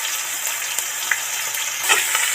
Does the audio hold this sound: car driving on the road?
no